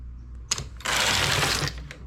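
A knitting machine carriage slides across a row in one quick, close rasping sweep of about a second, with a few light clicks before and after over a low steady hum.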